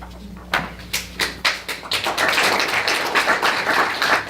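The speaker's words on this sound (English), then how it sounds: "No applause, please. Save it to the end." An audience at a poetry reading breaks into applause, starting with a few separate sharp claps that swell into a dense, sustained round of clapping close by.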